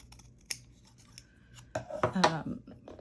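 Scissors close-cut card for a handmade sympathy card, shaving the edge. A single crisp snip comes first, then a louder run of rasping cuts after a pause, all close and fairly quiet.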